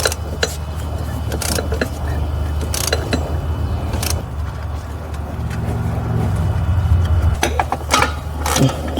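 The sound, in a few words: ratchet working a torque converter bolt on Chevrolet Cruze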